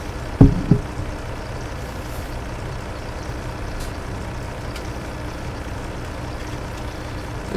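A truck in Farming Simulator 17 idles with a steady low engine rumble; two sharp thumps or clunks near the start are followed by an even, continuous drone.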